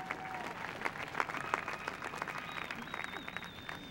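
Graduates at a cold outdoor university commencement ceremony clap together, a dense, sustained round of applause with scattered sharp claps and a faint whistle-like tone drifting above.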